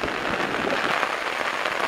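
Heavy monsoon rain pours steadily in rural Konkan, a dense continuous hiss of drops with no clear pauses or voices.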